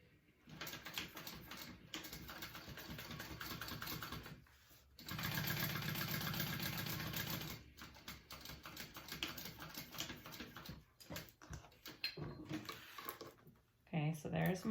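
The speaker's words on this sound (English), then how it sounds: "I'm going to sew along this fold a 1/8 inch seam allowance to make my first pleat" A sewing machine stitches a 1/8 inch seam along a fold to form a pleat on a handbag, running in close, loud bursts of rapid, even clatter separated by short pauses and small handling noises.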